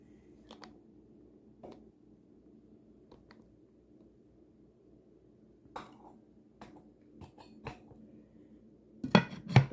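Quiet clinks and taps of cookware, then a few louder metallic clanks near the end as a lid goes onto a pot of Christmas ham soaked in soda, close by and without talk.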